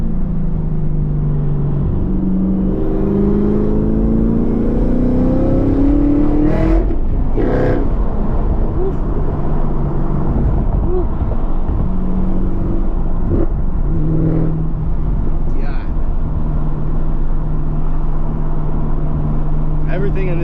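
Chevrolet Camaro ZL1 1LE engine revving and climbing through gears on a drive with tight turns, a steady loud engine drone with rising rev sweeps and shift breaks, heard from inside the car alongside someone talking.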